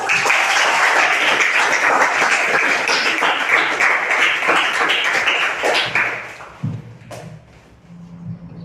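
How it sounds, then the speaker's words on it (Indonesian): Schoolchildren in a classroom clap together in a steady, dense burst of applause that lasts several seconds, then fades into scattered taps and a few voices. "Ya, tepuk tangan."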